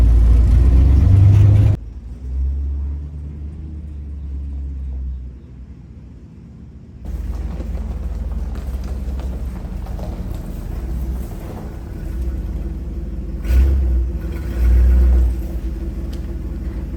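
A U-Haul rental truck engine rumbles deep and close as it backs up. It idles low, with throaty revving swells and brief louder bursts. No voices.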